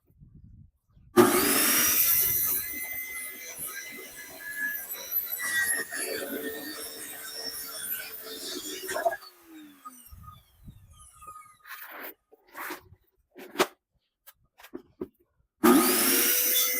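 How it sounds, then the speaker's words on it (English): A sheet of plywood is sawn into sides for a square box, with harsh rasping strokes that start abruptly and run several seconds, then give way to scattered knocks and clatter before the cutting resumes. "I got this one sheet of extra plywood, so I'm going to go ahead and cut 4 sides"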